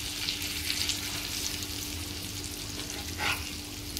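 Jitada fish coated in rawa frying in a pan, giving a steady, even sizzle with a low hum beneath and one brief clatter late on as the piece is flipped.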